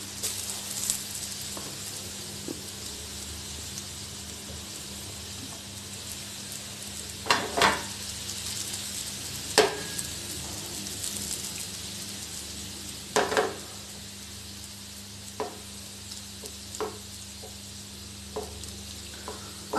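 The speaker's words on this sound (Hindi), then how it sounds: "और इसको शैलो फ्राई होने देंगे।" Sweet potato pieces shallow frying in hot ghee over a low to medium flame, a steady close sizzle throughout with occasional sharp pops and clinks of a spoon against the pan.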